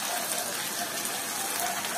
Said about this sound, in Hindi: और हम डालेंगे अभी आलू को ठीक से पकने के लिए थोड़ा सा पानी।